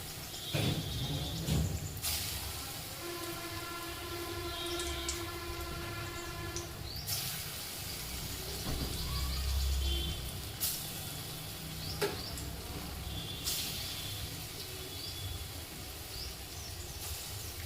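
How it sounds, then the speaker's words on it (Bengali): Chana dal kofta balls frying in hot oil, a close steady sizzle with occasional clinks and louder tones over it, no talking. "এই যে তেল গরম হয়ে গেছে, এবার আমি একটা একটা এই বল লাল লাল করে ভেজে নেব।"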